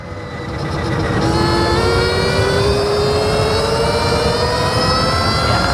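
A 2023 Stark Varg Alpha electric dirt bike ridden at half throttle in mode 2 gives a loud, steady electric motor whine that rises gradually in pitch over rushing wind and drivetrain noise, continuous and close.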